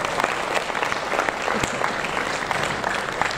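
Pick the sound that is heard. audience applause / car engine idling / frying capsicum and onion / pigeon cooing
audience applause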